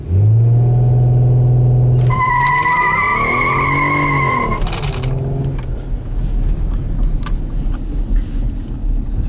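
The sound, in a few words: 2010 Kia Sedona minivan hard launch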